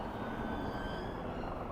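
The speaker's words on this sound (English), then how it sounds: "Now that helicopter is just above the Mall." A helicopter flies overhead above the Mall in London, giving a steady, distant rotor and engine drone that stays even throughout, with no talk.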